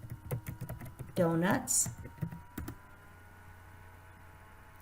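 Typing on a computer keyboard, a quick run of light clicking keystrokes at close range, interrupted by a burst of speech partway through and trailing into quiet room tone.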